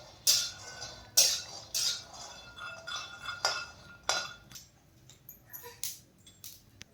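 Peanuts being roasted in a pan on a gas stove for sabudana khichdi, with sharp metallic clinks of a spoon against the pan coming in a loose, uneven rhythm, close and fairly quiet.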